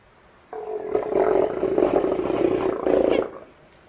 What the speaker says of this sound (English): Forrest, our stellar sea lion.